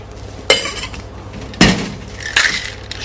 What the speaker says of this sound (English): You shake a little longer than normal with this one, obviously because you want to allow the marmalade to mix well